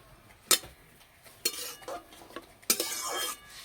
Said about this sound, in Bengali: এখানে আমি কলার মোচা নিয়েছি, কড়াইয়ের মধ্যে দিয়ে দেবো।